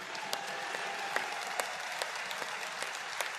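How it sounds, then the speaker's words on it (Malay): A crowd at an UMNO Youth assembly applauds Datuk Seri Hasni, a steady wash of clapping held at moderate level, with a few sharper louder claps standing out across the roughly three-second stretch. "Kita bagi tepukan gemuruh kepada Datuk Seri Hasni"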